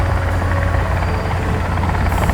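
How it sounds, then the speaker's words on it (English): Helicopter in the Sons of the Forest video game, a continuous loud rotor and engine drone with a deep thumping pulse, close and steady throughout. "look, I'm in a helicopter."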